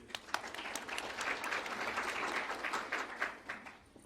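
An audience at a primary education conference breaks into dense, continuous applause that swells and holds, then begins to thin toward the end.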